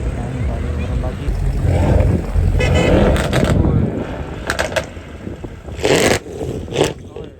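Car engines rumble and rev at a Saturday track day in Karachi, loud low droning with bursts of revving and wind buffeting the microphone, while people talk nearby.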